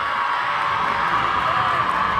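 Home crowd at a Manheim Township girls' high school basketball game cheering and shouting steadily, a dense, continuous roar with scattered whoops and children's voices throughout.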